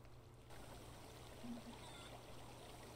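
Flowing water in the video game Octopath Traveler, a steady stream-like trickle and rush that runs continuously at moderate level, swelling slightly partway through with no voices.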